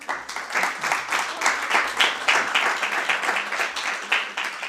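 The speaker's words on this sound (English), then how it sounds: "Another applause for her." Audience applause for a presenter at a startup pitch competition, a sustained crowd of clapping hands with a steady texture, moderately loud and close, with a little speech mixed in.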